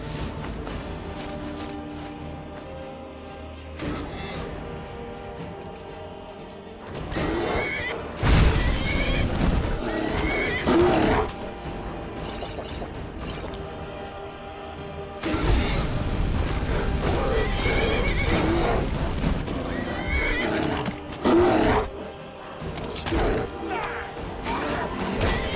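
Combat in the video game Skyrim with a horse whinnying, heavy booms and crashes rising and falling over about twenty-five seconds, with occasional talk mixed in.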